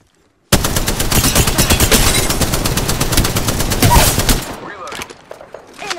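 Automatic weapon fire in the Apex Legends video game: a loud rapid burst of rounds starting suddenly and sustained for about four seconds, then trailing off into scattered fainter shots and game sounds.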